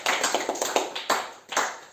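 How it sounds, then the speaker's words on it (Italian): Studio audience applause on an Italian game show, a run of quick clapping bursts close by, rising and falling in several waves. "un applauso a Francesca."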